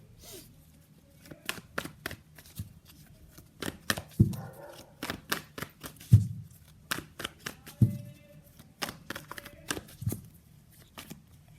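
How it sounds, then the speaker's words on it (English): Tarot cards are shuffled by hand in a rapid series of crisp riffling flutters and sharp taps, close and fairly quiet, with irregular bursts and short pauses between them and no talking. "So let's pull some cards from universe where this connection is headed."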